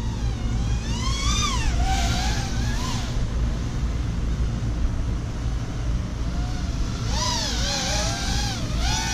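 A VIFLY R130 mini FPV quadcopter drone flies at full throttle outdoors, its high-pitched whining motors sweeping up and down in pitch as it passes near and away, loud over steady background noise, with no talk.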